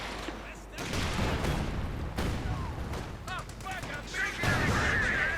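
Company of Heroes 2 battle audio of World War II combat with 6-pounder guns, Panzers and Cromwell tanks, with dense rattling gunfire and booming artillery bursts throughout. Whistling shell sounds come near the end, and a commentator talks over the action.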